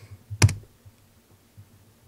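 A single crisp computer keyboard keystroke lands close and sharp, followed by near silence, from a desktop 3D modeling session.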